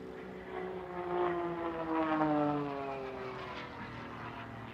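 An aerobatic propeller airplane flown by Grant Nielsen performing a Cuban 8 at the SUN 'n FUN Aerospace Expo, its engine drone rising and falling in pitch as it swoops overhead, moderately distant.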